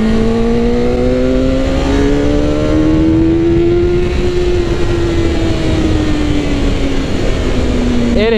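A 2001 Suzuki GSX-R 600 sport bike on its stock exhaust accelerates hard, its loud engine note climbing steadily in pitch and then easing back near the end as the rider pulls through the gears.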